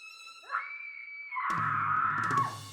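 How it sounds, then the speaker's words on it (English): A high, drawn-out scream rises and holds, then gives way to a louder, sustained burst of noisy sound, all heard without any talking, in a radio play set in a 1922 Nantucket hotel. "I hear a scream from down the hall"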